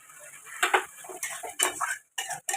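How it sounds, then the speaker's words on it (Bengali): Small-cut potato pieces tipped into a pan of fried ginger: a few quick clattering, scraping bursts of metal and food hitting the pan, close up, with short pauses between. "এবার বন্ধুরা আলুটা দিয়ে দেবো।"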